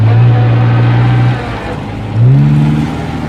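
A car engine drones and strains loudly as its tyre sinks into soft sand, the pitch sagging and dropping away midway before surging back up in a second rev.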